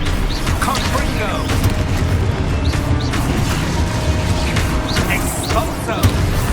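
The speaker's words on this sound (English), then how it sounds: "Confringo!" Magical blasts and impacts from a Confringo fire spell battle in Hogwarts Legacy, a dense run of booming bursts and crashes layered with game effects, with a voice calling out spells over the din.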